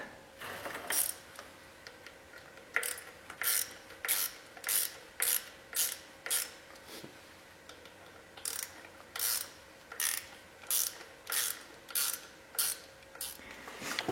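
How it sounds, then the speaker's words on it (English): Screws being removed from the pump of a 500 horsepower motor, likely with a ratchet tool, give a series of quick clicking bursts in a regular rhythm, close and fairly crisp, with short pauses between turns. "There's a whole bunch, like I said, a whole bunch of screws all the way across. I'm gonna pull them out."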